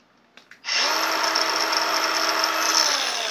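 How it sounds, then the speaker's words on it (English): Side grinder cutting a groove into a steel knife blade, starting after a couple of brief clicks and then holding a loud, steady high-pitched whine with a continuous grinding hiss throughout. "So I'm going to take the other side grinder and cut that out, and then get our profile a little better."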